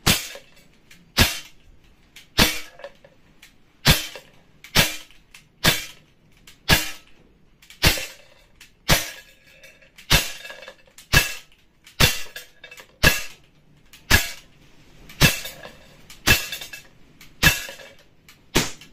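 A Crosman TACC31 4.5mm air pistol rated at 4.1 joules fires at a target: about twenty sharp, close pops in a steady rhythm roughly a second apart, each followed by a brief ringing tail.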